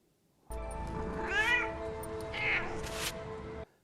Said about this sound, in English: she's hounded by a cat that somehow got to her second-story window